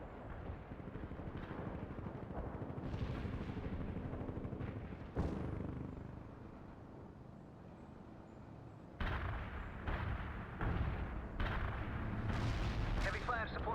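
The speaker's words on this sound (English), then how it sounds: "Commencing the barrage." An artillery barrage in the real-time strategy game World in Conflict sounds as a series of booming shell blasts and gunfire, some sharp and close, others rumbling in the distance, over steady battle noise.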